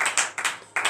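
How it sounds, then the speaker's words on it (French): Congregation clapping during a worship prayer gathering: a few sharp, rhythmic claps in quick pairs, close and crisp with short gaps between them. "Donnez l'acclamation encore à Jésus."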